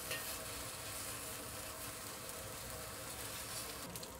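Chinese eggplant fries in oil in a wok as it is stirred, a continuous close, busy sizzle with faint scraping and no talking.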